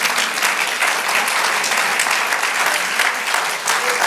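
Steady, dense applause from a church congregation praising the Lord during a sermon, loud and continuous for the whole stretch with no voices above it.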